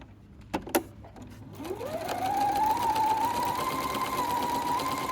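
A sewing machine stitches a cushion seam through two layers of fabric, with a few clicks at first, then a steady rising whir that settles into a continuous even hum, close and alone.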